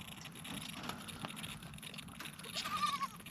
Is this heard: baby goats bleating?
yes